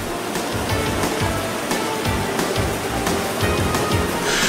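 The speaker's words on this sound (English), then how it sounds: "Water comes from everywhere and then flows as one until it is again divided and plunges down to the next level." A continuous broad roar of a waterfall with turquoise water in Turkey, with water rushing and splashing nearby at an even, steady level throughout.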